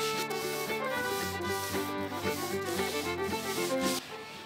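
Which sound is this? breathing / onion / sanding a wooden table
sanding a wooden table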